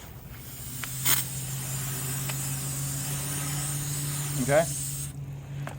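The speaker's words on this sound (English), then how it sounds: "So what I'm going to do is I'm just going to spray this off." A garden hose sprays water in a steady hiss, rinsing a car headlight lens, with a low hum beneath and a brief spoken word near the end.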